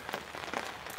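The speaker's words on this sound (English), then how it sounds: "the rain's starting to come down pretty heavy" Heavy rain drums steadily on a tent from inside, a dense continuous patter with no voices over it.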